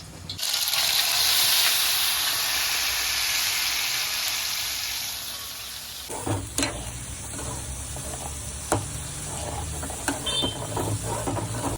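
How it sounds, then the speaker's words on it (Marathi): A loud, steady hiss of a pressure cooker whistle releasing steam rushes for about six seconds, then gives way to quieter kitchen clatter and bubbling with a few sharp knocks. "कुकरला शिट्टी पण आली."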